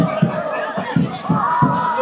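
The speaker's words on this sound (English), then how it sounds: "There's a lot of noise around me from the crowds" A football stadium crowd roars and murmurs close around, with away fans' chanting and music mixing into the dense din, punctuated by rhythmic thumps.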